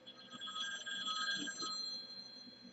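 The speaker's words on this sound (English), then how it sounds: "somebody's calling me that I don't know, because that's the ring" A phone rings with an electronic ringtone, faint and steady, its bright repeating tones sounding at a distance with no voices over it.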